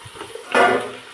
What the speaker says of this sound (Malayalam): അടുത്തത് മസാല ഉണ്ടാക്കാൻ വേണ്ടി ഉള്ളി ഇടുകയാണേ.